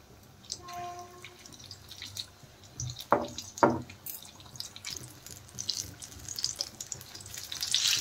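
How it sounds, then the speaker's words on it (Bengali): Gram-flour-coated egg pakoras are dropped by hand into hot oil, two sharp sizzling splashes standing out amid a low background crackle, with no talking. "সেইগুলোই আমি এইভাবে হাতের সাহায্যে দিয়ে দিচ্ছি তেলে।"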